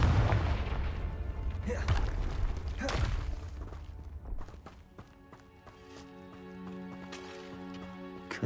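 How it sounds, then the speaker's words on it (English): Confringo blast spell explosions in Hogwarts Legacy, several booming bursts in the first few seconds giving way to quieter game sounds and a sustained tonal hum. "Confringo!"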